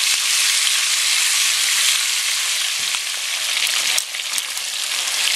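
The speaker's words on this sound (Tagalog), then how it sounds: "prituhin lang natin hanggang maging medyo light brown" Pork fries loudly in a pan in a dense, continuous crackling sizzle, close up and with no talk. The sizzle dips briefly near the end before resuming.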